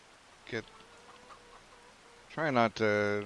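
Chickens cluck in the Farming Simulator 25 video game on a farm map, with a short cluck early on and then a louder run of clucks near the end.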